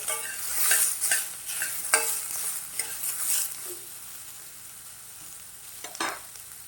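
Onion and tomato frying in a pan for a red restaurant-style gravy, a crackling sizzle broken by repeated stirring scrapes and clinks that fade to a quieter hiss near the end.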